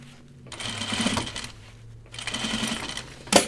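A sewing machine runs in two steady bursts, stitching through thick seams of a fabric dopp kit with ribbon layered in, close and alone, ending in a sharp metallic click.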